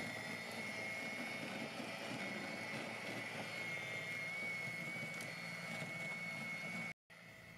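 Steady, loud electric whine and whir of an EGO 24-inch two-stage battery snow blower running on turbo mode, constant throughout and cutting out for a moment near the end.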